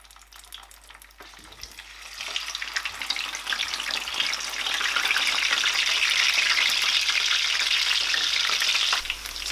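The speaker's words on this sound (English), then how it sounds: "I am going to fry my chicken" Chicken pieces sizzling in hot oil, the steady frying hiss swelling after a couple of seconds and holding loud and continuous to the end, with faint stirring clatter early on.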